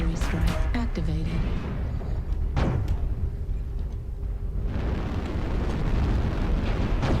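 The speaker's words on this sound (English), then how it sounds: "Target spotted. Artillery strike activated." Artillery strike in the MechWarrior Online video game: a heavy, sustained rumble of explosions rolling continuously, with a brief sharp burst early on and a dense, loud boom building again in the final seconds; a short voice fragment at the start.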